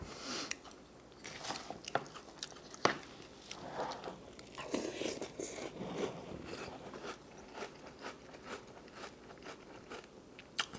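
Someone eats crunchy cereal with a ramen spoon, producing close crunching and chewing bites with occasional spoon scrapes and clinks at irregular intervals.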